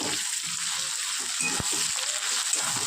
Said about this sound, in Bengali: আদা রসুন বাটা দিয়ে একটু কষিয়ে নেব